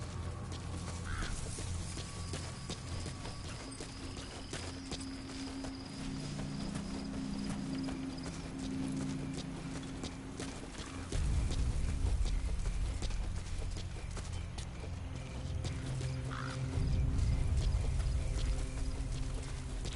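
A horse galloping in Metal Gear Solid 5: The Phantom Pain, with steady hoof clatter running throughout over the game's background sound, growing heavier and louder in the second half.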